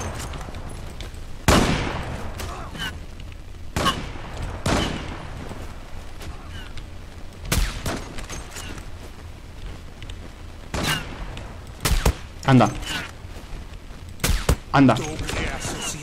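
Heavy single shots from the Bora 12 rifle in the shooting game Zula, sharp loud cracks spaced a few seconds apart with a quick double near the end, while someone talks between them.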